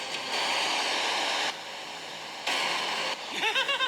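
An underground river inside a cave rushes as a loud, steady broadband roar in two surging stretches, then drops to a softer wash with a few sharp splashy bursts at the end.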